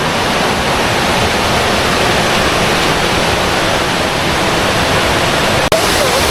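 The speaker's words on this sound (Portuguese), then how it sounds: "Na Cachoeira Peri-Peri." The Peri-Peri waterfall in Pernambuco roars as a loud, steady broadband wash of falling water close by, unbroken throughout with a single brief knock near the end.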